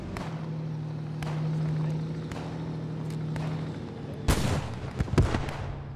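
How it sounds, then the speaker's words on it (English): Gunfire in the Post Scriptum war game, with scattered sharp shots over a low engine drone, then a louder close burst near the end. "Shots going down range, and he's just starting to pepper the building in front of him now"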